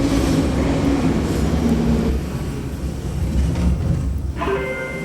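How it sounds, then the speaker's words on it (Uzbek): A metro train rolling into a station, with a loud continuous rumble and rail noise, gradually easing before a brief higher tone near the end. "Mana hozir metro ovozi eshitildi."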